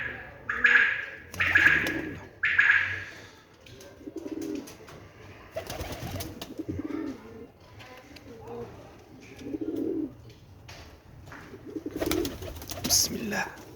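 Pigeons coo in low, rounded bursts that recur every few seconds, with sharper bird chirps breaking in near the start and end against a soft background.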